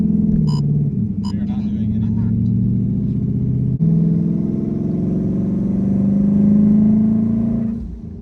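A twin-turbo Ford Mustang of over a thousand horsepower, fitted with exhaust turndowns, rumbles close by with a deep, choppy idle that swells into a heavy, droning rev before dropping away; someone speaks briefly over it at the start.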